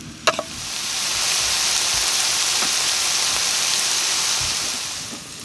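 Mushrooms and onions fry in a pan during a hot tent camping trip, a close, steady rain-like sizzle that holds evenly after a brief clank at the start.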